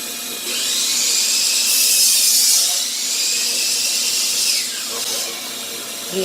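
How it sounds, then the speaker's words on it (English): A saw cuts through a 2x4 while a shop vac fitted with a cyclone separator runs, giving a loud, steady, hissing whine that rises for a few seconds mid-cut, then eases back under the continuous vacuum roar. "watch what happens every time you hear, right after you hear the saw cut."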